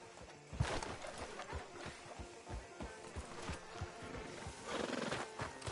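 In the Red Dead video game, a horse whinnies loudly and its hooves clip-clop in an uneven rhythm, with ambient game sound underneath.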